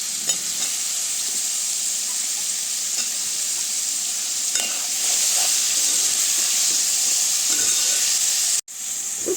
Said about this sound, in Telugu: ఇప్పుడు టమాటా ముక్కలు వేస్తున్నానండి.